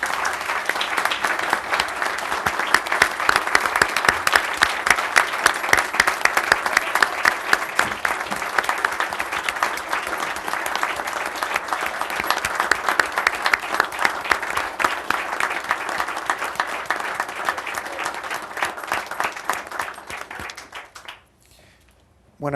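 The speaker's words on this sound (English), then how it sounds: "How about a round of applause?" Long, loud applause from an audience honoring students at a school event, a dense rolling clatter of many hands that keeps going for about twenty seconds before dying away abruptly.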